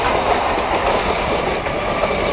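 A train pulling out of Bidhannagar station in Kolkata, with loud, close clickety-clack of wheels over rail joints over a continuous rolling rumble.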